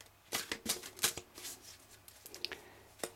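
A deck of oversized tarot cards being shuffled by hand, a series of crisp riffling flicks in uneven bursts, close and fairly loud with no talking.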